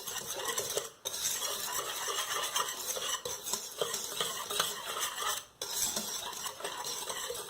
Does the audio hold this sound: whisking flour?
yes